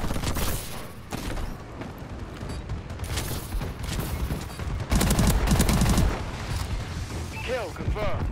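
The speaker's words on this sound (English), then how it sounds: "Friendly bombing run incoming." Explosions from a friendly bombing run mixed with rapid gunfire in Call of Duty: Advanced Warfare, dense and continuous, with a heavier boom burst midway, under faint background voices.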